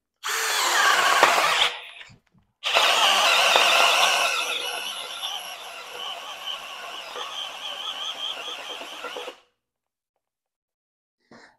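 A Metabo HPT subcompact drill turning a spade bit at low speed whirs loudly and close up in two bursts, the second bogging down and straining over several seconds before it stops.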